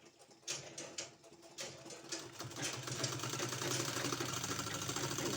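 A sewing machine stitching a strip of fabric onto a baby frock: a few light clicks as it starts, then a steady, buzzing mechanical whir that builds and runs on continuously at close range.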